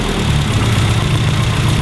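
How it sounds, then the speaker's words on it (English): A classic Mini engine, warmed up, idles steadily at about 900 RPM with a close, continuous low rumble and an even throb that holds throughout, with no voices over it. "the engine is warm now. It's sitting at about 900 RPM"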